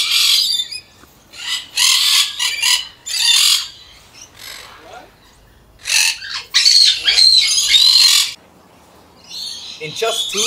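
Parrots in an aviary with macaws, caiques and lorikeets let out loud, harsh squawks in close bursts separated by short gaps, with a few shrill whistled calls mixed in.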